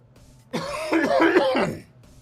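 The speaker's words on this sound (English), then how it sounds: "Sorry about the cough." A single harsh cough with throat clearing, close and fairly loud, lasting over a second amid a racing commentary setting at Road Atlanta.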